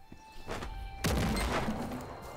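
A heavy blast booms in the Lost Ark video game, a sudden loud crash with rumbling debris that follows a rising whoosh and lingers.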